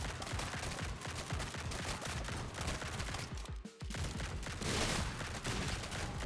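Rapid gunfire in the action roguelite shooter Grind Survivors, with dense, loud bursts of shots firing almost continuously, one brief gap in the middle before the shooting resumes.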